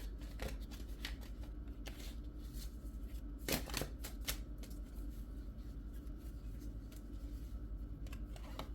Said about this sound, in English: I'm just going to pull one more card.